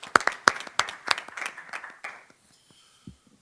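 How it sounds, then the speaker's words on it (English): Audience at a Rochester City School District board business meeting claps in a short burst of distinct, fairly close hand claps that thin out and fade to near silence after about two seconds. "Can we give them a round of applause?"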